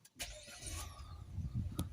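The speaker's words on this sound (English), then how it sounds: "So we're inside the car now, we're going to start it up." A Citroën C4 Picasso 1.6 Blue HDi AdBlue diesel with an engine fault is started from inside the cabin: a starter whirr followed by the engine catching and settling into a low, steady idle rumble, close and moderately loud.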